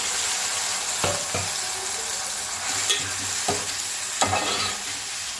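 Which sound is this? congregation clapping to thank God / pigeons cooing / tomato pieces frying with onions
tomato pieces frying with onions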